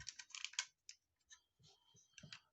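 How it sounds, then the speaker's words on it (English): Plastic clicks and snaps from folding out parts of a Fanstoys Goose transforming figure, a quick cluster of sharp close clicks followed by scattered softer handling taps, with no talk. "you want to take these and you want to fold them out"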